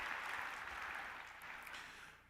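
An audience at a university faculty convocation applauds newly promoted and tenured faculty members, with a steady wash of clapping that is fairly faint and distant and slowly fades. No one speaks.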